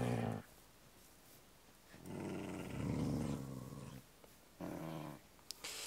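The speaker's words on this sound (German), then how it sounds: "Es sind Hunde, Hunde." Dogs in the Minecraft video game growling, two or three low rumbling growls in separate bursts with short quiet gaps between them, moderately loud and heard alone.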